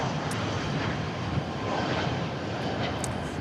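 Delta Air Lines jet airliner at Dallas/Fort Worth Airport on a hot day, a steady, loud, broadband engine roar that holds for a few seconds without any talking.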